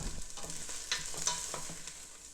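Rainbow carrots tipped into a pan of frying onions for a vegetable tagine, giving a soft, steady sizzle with a few sharper clicks and stirring scrapes, close and quiet, with no talk.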